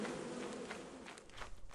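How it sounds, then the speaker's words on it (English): Insects buzzing inside a video game, with bees near the player, as a steady busy hum of game sound effects under gameplay noise at moderate level. "There's bees right there."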